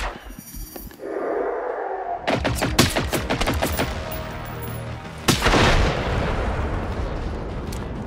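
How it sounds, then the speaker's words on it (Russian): Sniper rifle fire at robots in the Generation Zero video game: a loud gunshot followed by a rapid burst of cracks and booms, then a second sharp blast with a lingering rumbling tail, all close and without speech. "со снайперской винтовки издалека вот так вот их можно валить"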